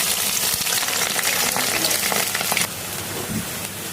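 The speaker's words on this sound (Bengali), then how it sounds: "এখন দিয়ে দিব পেঁয়াজ মরিচ।" Onion and chili hit hot oil for khichuri, making a loud, crackling sizzle that drops to a softer steady frying hiss partway through, with a few stirring sounds.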